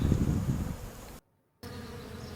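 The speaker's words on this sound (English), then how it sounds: "We just installed these bees and you can see that they're coming out through the mouse guard" Dense, steady buzzing of many honey bees close by at a newly installed backyard hive, briefly cut to silence before the swarm drone resumes.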